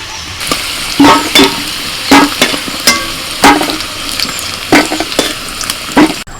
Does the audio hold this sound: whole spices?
yes